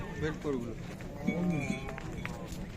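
Sheep and goats bleat a few times amid a bustling livestock market in Sokuluk, Kyrgyzstan, with people talking and a bell clinking in the background.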